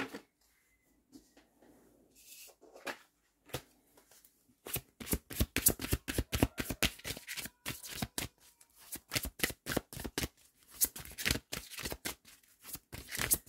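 Tarot cards shuffled by hand in a quick, dense run of crisp riffling snaps after a few sparse taps and slides at the start, growing loud and steady with no talk.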